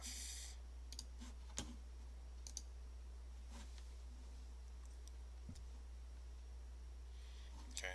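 Sparse, faint mouse clicks while editing a Google Sites page, a handful of sharp ticks spread over a steady low hum with no talking.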